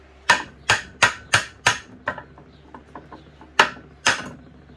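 A hammer tapping a part loose from an air compressor's electric motor during a scrap breakdown, with five sharp metallic knocks in quick succession, a few faint clinks, then two more solid hits, close and loud.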